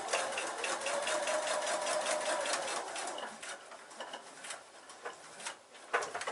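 A sewing machine stitches foundation paper piecing with a steady, rapid mechanical whir that gradually slows into looser ticking stitches before stopping, close and fairly quiet with no talking.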